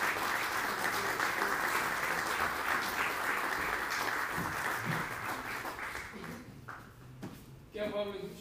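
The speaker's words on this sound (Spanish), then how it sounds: "Demos bienvenida al maestro Vicente Espino Jara y un aplauso, por favor." An audience at a lecture gives a sustained, loud round of applause to welcome the speaker. The dense clapping holds steady, then thins and dies away into scattered claps, shuffling and murmurs.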